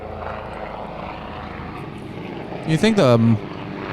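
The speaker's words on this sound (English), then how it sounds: "What did the mics pick up the helicopter?" A helicopter flying overhead at night during a search with a spotlight, heard as a steady, fairly faint engine and rotor drone throughout, with a short burst of speech over it near the end.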